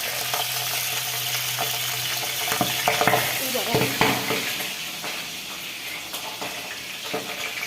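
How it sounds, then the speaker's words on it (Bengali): Pabda fish frying in a pan, giving a steady, close hiss and sizzle with occasional clinks of stirring that grow busier midway. "মাছ ভাজার সময় খুবই সাবধান"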